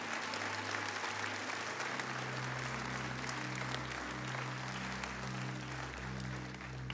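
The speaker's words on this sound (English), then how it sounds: "would you please give your FBC graduates a round of applause?" An audience at a graduation ceremony applauds the graduates, a continuous, even wash of many hands clapping. Low steady tones hum underneath the clapping.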